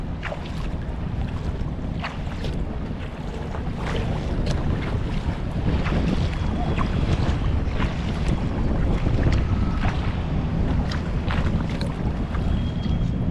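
Speedboats pass on the water off Wendy Park in Cleveland, Ohio, a steady engine drone partly buried under heavy wind buffeting the microphone, with no one talking.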